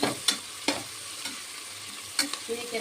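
Rice and dal being stirred in a pan: a steady soft sizzle with several sharp scrapes of a spoon against the pan at irregular intervals.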